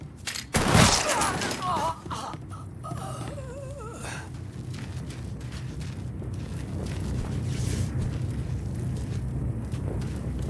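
Gunfire in the video game Mafia III, with a burst of loud shots and impacts up front, then a sustained rumbling barrage as voices shout briefly near the start.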